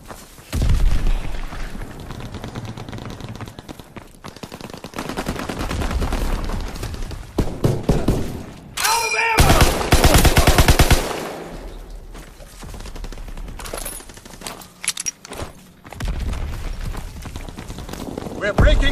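A video game battle with dense rapid gunfire and heavy grenade explosions, loud bursts of automatic fire alternating with booming blasts, while voices shout throughout.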